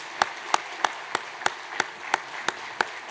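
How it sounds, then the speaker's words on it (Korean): Congratulatory clapping at a Sunday church service following an infant baptism, heard as evenly spaced sharp claps in a steady rhythm, moderately loud with no voices over it. "다 함께 힘찬 축하의 박수 부탁합니다."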